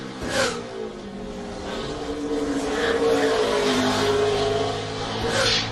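NASCAR Nextel Cup stock car engine screaming through a qualifying lap, a loud sustained high-revving roar whose pitch climbs and falls as it gears and passes, heard close with no talking.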